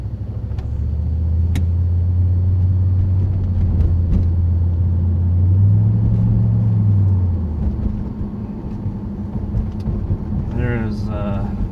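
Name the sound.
2008 Grand Prix GXP with Thrush welded muffler exhaust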